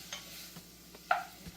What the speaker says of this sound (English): Stirring it up.